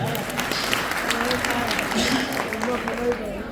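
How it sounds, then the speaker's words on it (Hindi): Audience at a speech event clapping in a sustained, even burst of applause, moderately loud and continuous, with voices faintly mixed in underneath. "अम्मा के लिए जोरदार तालियां हो जाए।"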